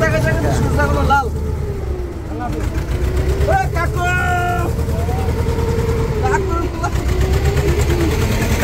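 A trawler's engine drones steadily and close by as the boat leaves Dublar Char in the Sundarbans, bound for Mongla, with people talking over the constant low rumble throughout.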